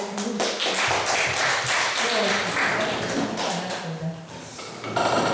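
An audience in a humanities lecture hall in Daegu claps to welcome a guide to the front, a dense, steady patter of hands lasting throughout, fairly close, with a few louder taps near the end.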